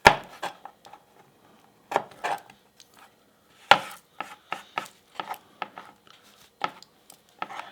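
Vegetables chopped with a knife on a cutting board for street tacos, a sequence of sharp, close knife strikes in small irregular clusters with brief pauses between.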